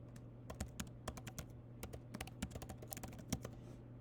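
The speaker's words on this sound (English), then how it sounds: "Email, I'm going to type in my email address." Rapid keystrokes on a computer keyboard while an email address is entered, a steady run of crisp close clicks with brief pauses, over a low constant hum.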